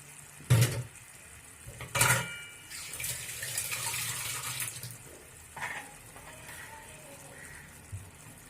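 Water is poured from a tap into a pan of cooked spice paste for a fish curry, with a short splash, a second pour and a longer running stream, then quieter sizzling and clatter from the pan.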